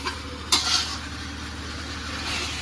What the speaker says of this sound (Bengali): এখনো কষানো হচ্ছে এখানে।